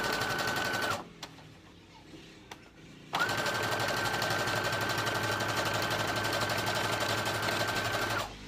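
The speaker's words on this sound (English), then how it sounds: "top stitching this seam allowance away from the center" A sewing machine runs a steady top stitch along a seam allowance, stopping briefly after a second for a few light clicks before resuming a long, even run near and fairly loud until the end.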